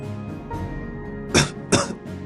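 Two sharp coughs come in quick succession after a moment of murmured background sound, loud and close, like a harsh throat-clearing hack.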